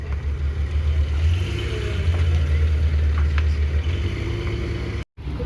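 A Porsche 718 fitted with an aftermarket exhaust pulls away at a cars and coffee meet in Annecy, its engine a steady low rumble that stays loud and close throughout, with a brief dropout near the end.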